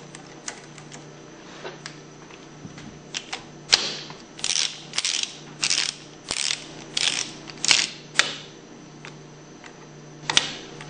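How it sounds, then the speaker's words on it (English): Hex bolts being tightened in a crisscross pattern on a Hypro centrifugal pump: a series of sharp, close ratcheting clicks come in short rhythmic runs, with scattered single ticks before and after. "Tighten these hex bolts down in a crisscross pattern to approximately 15 foot-pounds."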